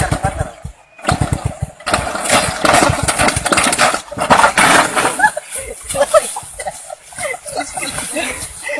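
A motorbike engine runs in a prank setting, its rough rumble sitting under loud, busy crowd noise and voices that rise and fall throughout.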